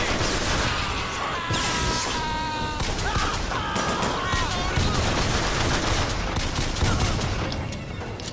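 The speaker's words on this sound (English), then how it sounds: "I'm trying way too hard to get headshots." Rapid gunfire from Bioshock Infinite, loud bursts and fusillades filling the whole stretch with dense overlapping shots amid game noise and music.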